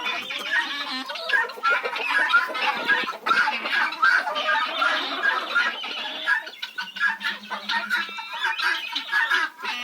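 Hens and bantams clucking and squawking steadily as they stream out of a village coop into a frosty winter yard, a busy, close chorus of overlapping calls with a brief low hum partway through.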